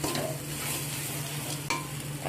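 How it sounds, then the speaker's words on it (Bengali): Ground spices with a splash of water sautéing and being stirred in a pan, with a steady close sizzle and scraping throughout and one brief louder scrape near the end. "এখানে সমস্ত মশলা আমার ভালো করে কষানো হয়ে গিয়েছে"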